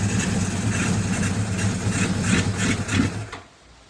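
Suzuki GS550 motorcycle engine at idle, a steady rough low throbbing with a fast mechanical clatter, close and loud, cutting off abruptly just before the end.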